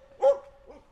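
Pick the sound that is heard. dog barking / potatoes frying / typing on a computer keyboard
dog barking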